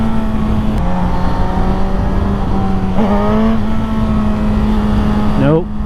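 A 2024 Suzuki GSX-S1000 motorcycle engine holds a steady drone, with a couple of brief revs rising during failed wheelie attempts and a sharp climbing rev at the end; no speech.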